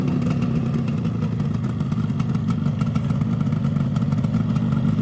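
A 1981 Yamaha RD350LC motorcycle with a rebuilt engine runs loud and close, its two-stroke engine giving a steady, buzzing drone with a raspy clatter and no speech over it.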